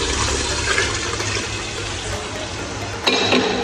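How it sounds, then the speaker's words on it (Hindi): Water pouring steadily into a pressure cooker of softened tomatoes for a meat shorba, a continuous rushing splash close by with a brief clatter near the end. "अब हम इसमें पानी शामिल कर लेंगे।"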